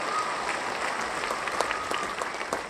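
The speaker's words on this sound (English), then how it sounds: "Clap it up one more time." A studio audience at a game show claps in sustained, dense applause, loud and close, holding steady for the whole stretch with no talking over it.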